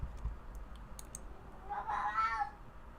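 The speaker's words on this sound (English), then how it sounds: "You guys are hearing my cat talk to us." A pet cat meowing indoors, one drawn-out close meow in the middle of the clip over faint clicking and low room noise.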